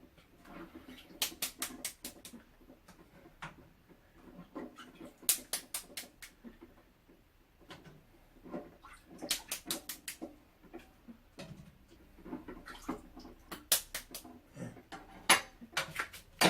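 A spoon taps the shells of boiled tea eggs to crack them, making light, quick clicking taps in short bursts with pauses between. Close and fairly quiet, with no talking.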